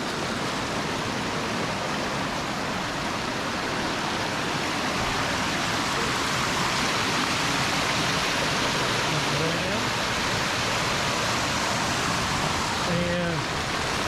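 A waterfall on a hiking trail in the Green Mountain Nature Preserve near Huntsville rushes in a steady, loud wash of noise, with brief voices speaking faintly near the end.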